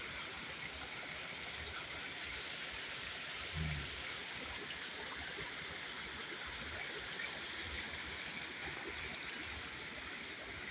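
A small stream flows steadily in a broad, continuous rush of water, close and even throughout, with a faint brief bump partway through.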